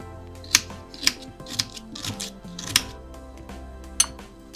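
Sharp knife strikes on a cutting board as garlic cloves, ginger and onion are finely chopped for a fish curry, about five distinct loud chops spaced irregularly with quieter scraping between, no talk.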